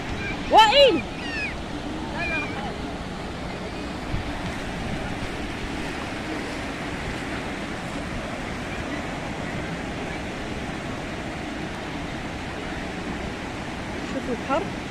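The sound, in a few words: sea waves at the shore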